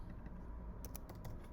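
Quick bursts of typing on a computer keyboard, a short run of clicky keystrokes over a low background hum.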